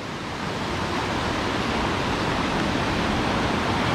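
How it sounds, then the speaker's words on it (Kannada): A steady, dense rush of a forest stream flowing toward a lake in Munnar fills the whole clip, continuous and close, with no voices or breaks. "ಕಾಡಿಂದ ಹರ್ಕೊಂಡು ಬರ್ತಾ ಇರೋ ಹೊಳೆ."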